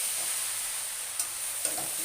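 Chow mein stir-fried in a pan with already fried onion and egg, giving a steady, even sizzle throughout with two brief scraping stir sounds; no talking.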